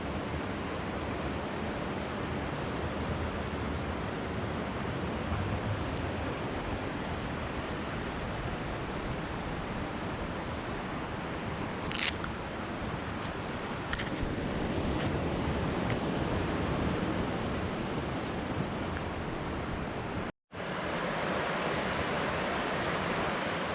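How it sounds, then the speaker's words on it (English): A river rushes through Gorge Metro Park in Cuyahoga Valley National Park, a dense, steady broadband roar of flowing water close by, with a brief cut near the end before the flow resumes. "River's flowing pretty good."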